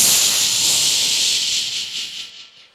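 A voice imitates a rich family's pressure cooker, a loud, steady, breathy hiss held for nearly three seconds before tapering off, heard alone with no talk.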